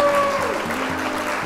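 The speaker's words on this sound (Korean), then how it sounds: "박수!" Clapping breaks out at a church high-school youth worship service: a short burst of steady hand applause from a group of young people, with a voice and tonal sounds mixed in at the start.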